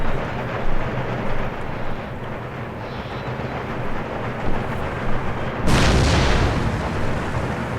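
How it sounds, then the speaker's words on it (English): Mortar artillery fire in Empire Total War booms as a dense, continuous battlefield rumble, with a heavier blast surging in near the end. "Where are my mortars actually hitting?"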